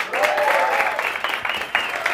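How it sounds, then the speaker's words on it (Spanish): A comedy-show audience applauds as a comedian is welcomed onstage, giving loud, fairly close clapping with a few sharper bursts, while a voice, likely the host, speaks over it. "Recibamos con un fuerte aplauso a Tomás Comedy."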